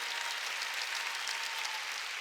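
Applause rises from a congregation at a Korean Wednesday church service, a brief, even patter of many hands clapping, soft and distant, with no voices over it.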